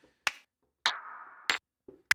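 Processed clap samples from a Native Instruments Maschine expansion, several crisp, punchy hits in an isolated sequence, one with a short sustained tail, each snapping sharply out of silence.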